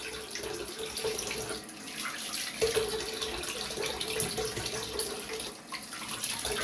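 Steady rush of tap water running and splashing, with small shifts as a shaved face is rinsed under the stream, no talking.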